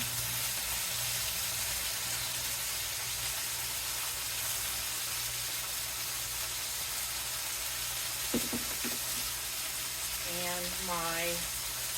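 Lemon chicken seasoned with salt, pepper and roasted garlic sears in a hot pan, giving a steady, close frying hiss that fills the clip, with a voice speaking briefly near the end.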